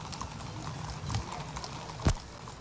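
Horses' hooves clopping at Chile's 2015 military parade in an outdoor ellipse, a steady run of clip-clop against crowd ambience with one sharper thud near the end.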